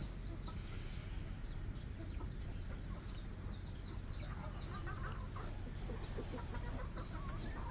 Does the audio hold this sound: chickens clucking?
yes